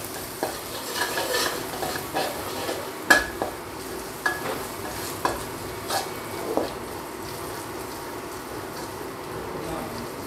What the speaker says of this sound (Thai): กระเทียมลงเจียวให้หอมตอนนี้เราต้องหรี่ไฟลงนิดนะครับเพราะว่ากระทะเรามีความร้อนอยู่แล้ว